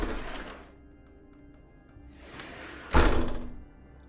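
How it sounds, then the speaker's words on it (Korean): An iron door clangs in a police interrogation room. Two softer scraping swells lead into one loud, close metallic slam near the end, with no speech. "철컹이는 철문 소리가 울려 퍼지고"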